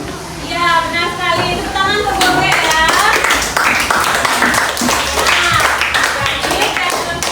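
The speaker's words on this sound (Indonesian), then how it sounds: "Tepuk tangan untuk Goge ya" A classroom of students claps for a classmate, with scattered, uneven hand claps mixed with chatter and voices talking over them at close range.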